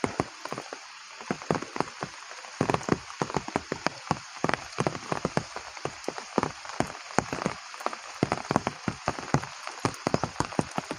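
Rain falls steadily at Lam Phra Phloeng dam in Thailand, a dense patter of close drops striking surfaces in irregular taps and splashes over a constant wash, with no talking.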